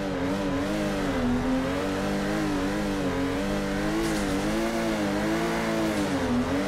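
Torque Drift Subaru BRZ engine in a drifting racing game, a loud sustained rev held near the limiter with a steady buzzing tone that wavers slightly up and down as the car slides.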